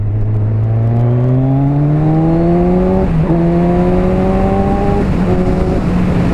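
Kawasaki Z1000 2017 motorcycle engine pulling hard on a country road, its loud tone climbing steadily through gears with brief dips at each shift, steady wind roar underneath.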